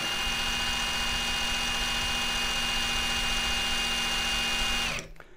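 An Ingco 20V cordless impact wrench rated at 1,350 Nm runs on its low setting on a test rig, giving a loud, steady motor whine for about five seconds before it stops abruptly.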